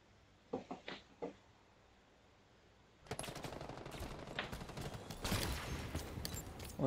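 Gunfire during a live fire exercise in Halo Infinite, a few isolated shots followed by a sustained dense burst of rapid automatic fire and explosions, fairly loud and continuous.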